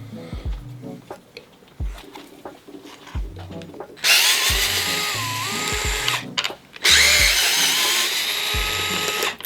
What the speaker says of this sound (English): So I'm gonna use this tool that Robert included just to break them free.